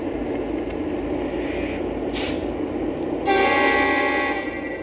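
A brand-new Lionel ET44AC model train locomotive running with its smoke unit on gives a steady, close mechanical rumble and whir. Partway through, a loud electronic horn joins in and holds for over a second.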